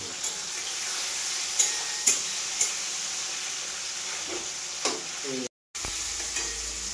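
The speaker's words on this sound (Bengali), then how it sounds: "টমেটো পেঁয়াজ ভাজা হইল" Tomato and onion fry in a pan with a steady close sizzle and hiss, broken by a few clinks and scrapes of stirring and a brief silent gap near the end.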